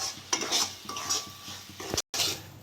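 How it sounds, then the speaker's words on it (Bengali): Semolina stirred and fried in hot ghee in a pan, with scraping spoon strokes against the metal, light sizzling underneath and a brief gap near the end. "ভালো করে ভেজে নেব।"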